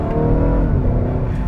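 A 2.0-litre turbocharged Honda Accord Touring accelerates hard in sport mode, its engine note loud and close as it climbs steadily without a pause.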